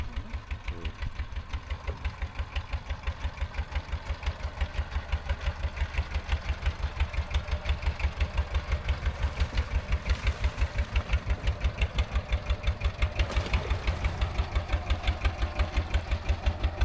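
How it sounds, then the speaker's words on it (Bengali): A trawler boat's engine idles at a river crossing near the Sundarbans mangrove forest, a loud, close, evenly thudding rhythm that chugs on without pause throughout. "এই যে ট্রলারটা দেখলেন"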